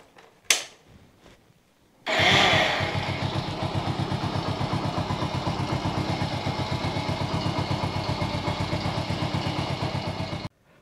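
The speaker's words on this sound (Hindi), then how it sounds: "इंजन को स्टार्ट करके जस्ट दो मिनट तक वेट करूँगा और जो हमारा इंजन ऑयल है इसे थोड़ा सा वार्म कर लूँगा" A car engine with about 1 lakh km on it cranks and catches after a faint click, then settles into a steady, even idle as it warms the oil before an engine flush. The engine is close and loud, with no talking.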